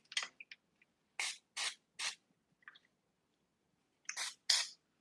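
Black magic hair spray applied during a bald fade haircut, a series of short, close hissing bursts, several in a quick rhythm and two more after a pause, with quiet gaps and no talk.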